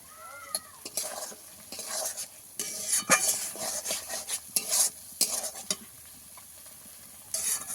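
Spices stir-frying in a pan for Bengali potol posto, with repeated scraping strokes of a utensil against the metal over a soft sizzle, close and steady.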